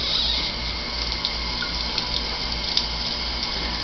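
Water runs steadily from a kitchen sink tap, a close, continuous splashing hiss with a low rumble beneath it, unbroken for a few seconds and with no voices.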